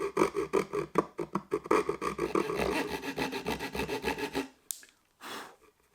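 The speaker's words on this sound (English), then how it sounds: "trimmed them using my Suizan Japanese pull saw" Suizan Japanese pull saw trimming the corners of a wooden box piece, a quick run of rhythmic rasping strokes close up, then a short pause and a final scrape.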